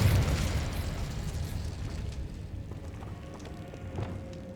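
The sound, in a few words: Repulsor spell cast, from video game Hogwarts Legacy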